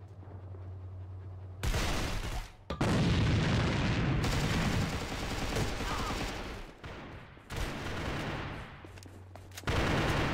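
Grenade blast and bursts of gunfire in a multiplayer shooter match, loud and dense, with sustained firing and booms filling most of the stretch between brief quieter gaps.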